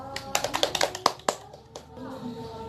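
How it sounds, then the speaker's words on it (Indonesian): Scattered hand clapping in a classroom, a short uneven burst of claps that fades out after about a second and a half, with a faint tone lingering underneath. "Berikan aplaus."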